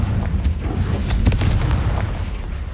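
A Confringo blasting spell explodes in Hogwarts Legacy as a deep booming rumble with a few sharp crackling bursts, loud and close, sustained over a couple of seconds with no speech.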